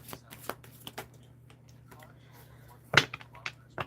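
A deck of cards being shuffled for a fortune-telling guidance reading: soft riffling clicks and taps scattered over a few seconds, with one sharper burst near the end, close and fairly quiet.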